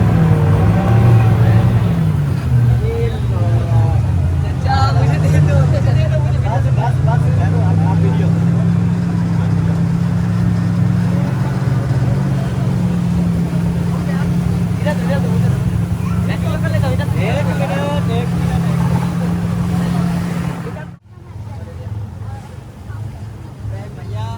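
A tourist boat motors along the creek in old Dubai, its engine a steady, loud low rumble mixed with wind buffeting, while people talk throughout; the noise drops off abruptly near the end.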